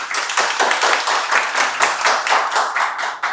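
Audience clapping in a studio, close and loud with a brisk, rhythmic beat of distinct claps that holds steady throughout.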